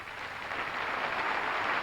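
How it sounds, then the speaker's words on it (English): A crowd at a Miss World 1995 pageant applauds, a dense, even wash of many hands clapping that holds steady and slightly swells across the short stretch, with no voices standing out. "You clap."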